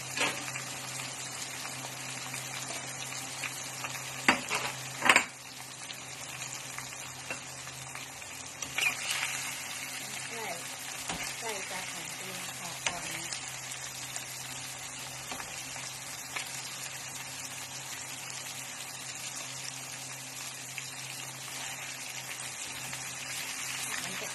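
Pork ribs deep-frying in hot oil with makhwaen pepper, giving a steady, even sizzling hiss with a few sharper pops and spatters. It continues unbroken for about 24 seconds with no voices.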